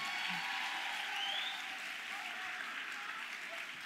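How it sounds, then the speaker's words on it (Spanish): Steady audience applause fills the whole stretch at an even, moderate level, a dense wash of many hands clapping with no pauses. "Muy bien, un aplauso."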